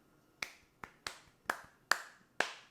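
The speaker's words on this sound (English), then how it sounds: "Terrible round of applause." Six sparse, sharp claps or snaps spaced roughly half a second apart, a small weak round of applause from one or two people in a quiet indoor room.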